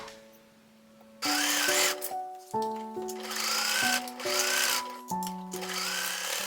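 A sewing machine stitches the side seams of a dress in bursts: a pitched whirring motor that starts, pauses and restarts several times, close and alone.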